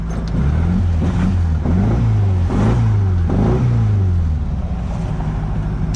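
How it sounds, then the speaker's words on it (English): A classic VW Beetle's air-cooled engine is revved repeatedly, several rising and falling blips close to the microphone, loud and throaty over an idle. "Some people ask for the revs. I had to give them the revs."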